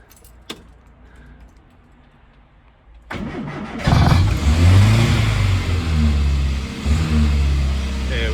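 A Morris Minor car, choke on, after keys jangle: quiet at first, then the starter cranks and the engine catches into a loud, steady idle close by.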